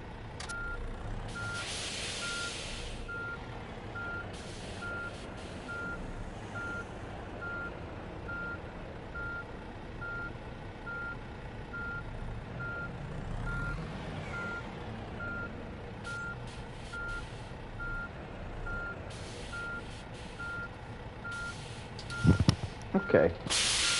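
Reversing beeps from a truck in the On the Road truck driving video game repeat steadily over a low engine drone, with hissing air bursts and a few clunks near the end.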